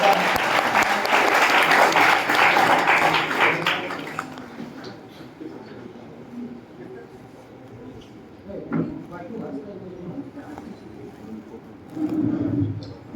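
An audience at a welcoming event for guests applauds loudly in a dense burst of clapping that fades after about four seconds, followed by quieter room sounds and some voices.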